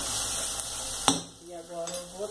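A whole onion sizzles as it fries in a pan, a steady close hiss broken by a sharp clink of a utensil against the pan and some stirring.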